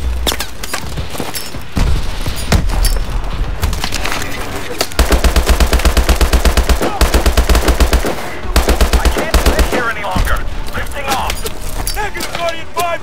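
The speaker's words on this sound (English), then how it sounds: "Suppressing fire" Sustained machine gun suppressing fire in Call of Duty Advanced Warfare, with loud rapid automatic bursts, the steadiest and densest run in the middle, mixed with explosions, game score and faint voices.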